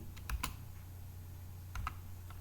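Quiet keystrokes on a computer keyboard, a few soft clicks in two small bursts over a low background hum.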